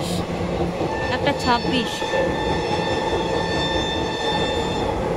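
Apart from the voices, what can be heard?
Sealdah to Lalgola passenger train running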